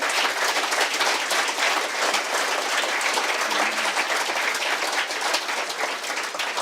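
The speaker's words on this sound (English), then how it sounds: "I want you to give one final round of applause to our lecturers" A final round of audience applause for lecturers at an annual lecture on the Kingston Harbour cleanup, loud, dense and continuous clapping filling the hall throughout.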